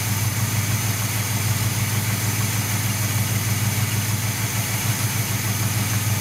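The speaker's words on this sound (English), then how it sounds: "I can read how many RPMs I'm getting out of the engine" A 1978 Chevy C-10 engine idles during carburetor tuning, a steady, close, continuous low rumble with an even pulsing throb and no talking.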